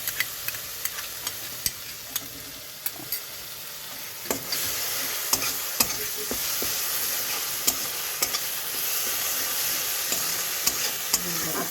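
Masala with ginger garlic paste frying in oil for Chicken Patiala, a steady close sizzle with sharp spoon scrapes and clicks against the pan repeating every second or so.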